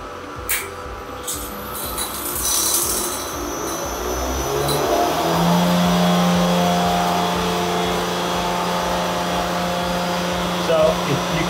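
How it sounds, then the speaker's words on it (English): Vacuum pump in a variable speed extractor starting up, a steady mechanical hum and whir that rises and settles into a constant drone, with some clicks and handling noises at the start. "let's start the vacuum pump again."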